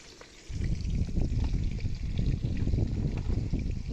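Potatoes frying in a pan during village cooking, a steady close sizzle and crackle that starts abruptly after a brief quiet moment and continues evenly throughout.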